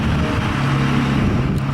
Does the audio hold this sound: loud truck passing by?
yes